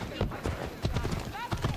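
Horse hooves clip-clop in Assassin's Creed Odyssey, a quick run of hollow thuds mixed under lively chatter from players talking over the game.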